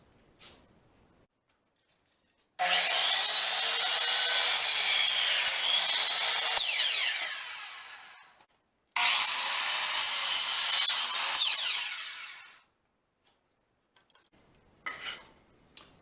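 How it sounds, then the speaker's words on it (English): A power saw cuts through wood in two long, loud passes, each whining steadily before tapering off, separated by a short pause, with light clatter afterward. "This is not flat wood in any dimension. So let's start cutting."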